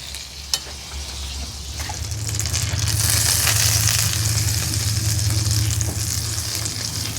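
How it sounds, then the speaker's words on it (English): Two tablespoons of unsalted butter melt and sizzle in a hot pan to start a roux for smoked pork belly mac and cheese, a soft crackle after a knock that swells into a steady, bright frying hiss. "I'm going to come back in with 2 tablespoons of unsalted butter. We're going to make a roux."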